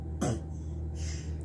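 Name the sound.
child coughing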